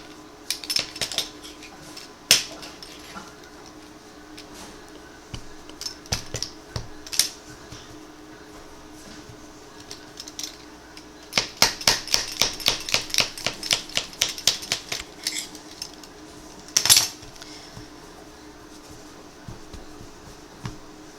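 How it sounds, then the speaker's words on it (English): Small pizza cutter rolling through homemade noodle dough on a board, producing bursts of quick rhythmic clicking and rattling strokes, with one dense run in the middle, close-up and with no voices. "I like using my little pizza cutter here"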